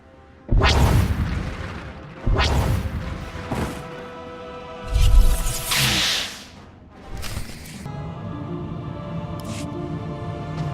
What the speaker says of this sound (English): The Deathmark laser is finally back online. And it's tracking you.